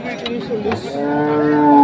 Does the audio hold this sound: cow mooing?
yes